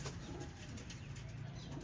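Pigeons' wings flutter and flap in quick bursts over a steady low background hum, fairly faint and close.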